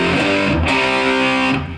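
A distorted electric guitar plays a power chord riff, fretted on the fifth string. Thick, loud sustained chords with a couple of quick re-strikes ring out alone and fade at the end.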